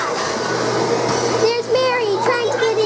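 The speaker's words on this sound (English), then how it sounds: "Mommy is vacuuming over there, and Mary is pretending she's vacuuming too." A vacuum cleaner runs steadily in a house, a constant droning hum, while a voice chatters over it toward the end.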